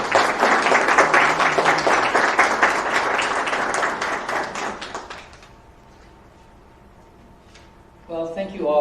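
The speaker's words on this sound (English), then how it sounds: "maybe we can have a round of applause as she comes up" An audience applauds at a university MFA creative writing graduation ceremony, with loud, dense clapping for about five seconds before it fades to a quiet room and a voice begins.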